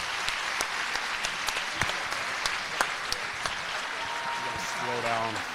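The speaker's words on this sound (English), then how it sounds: "let's give our first section a round of applause on their academic award" Audience applause at a senior awards ceremony, a steady crowd clapping with sharp individual claps standing out, and a voice briefly speaking over it toward the end.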